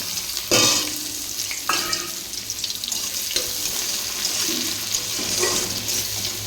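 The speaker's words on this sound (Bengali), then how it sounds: "পাঁচ ফোড়ন তেজপাতা ফোড়ন দিয়ে দিয়েছি এবারে পেঁয়াজটা দেবো কেটে রাখা" Chopped onion frying in oil seasoned with panch phoron and bay leaf after eggplant was fried; loud sizzling with repeated scraping stirs of a spatula in the pan, close up and continuous, no talking.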